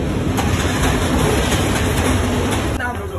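A passenger train with people boarding a coach, heard up close as a loud rumbling roll with rhythmic clicks and a high whine, a voice or two faintly mixed in.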